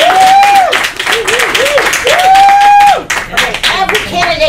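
Audience applause for a school board candidate at a meet-the-candidates event, a steady wash of clapping with cheering voices and whoops rising and falling over about four seconds.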